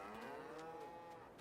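Cattle low in Farming Simulator 22, one drawn-out moo with a rising and falling tone, faint and somewhat distant, heard alone without talk.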